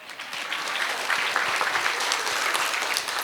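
Steady applause from an audience at a kindergarten annual gathering, dense overlapping claps at an even level throughout, with no talk over it.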